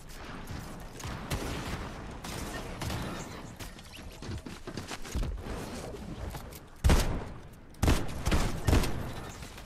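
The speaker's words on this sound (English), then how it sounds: "I'm like shooting into nowhere, thinking I'm shooting the person." Rapid gunfire in the video game Fortnite rattles in dense, continuous bursts at moderate level, with several louder sharp shots standing out near the end.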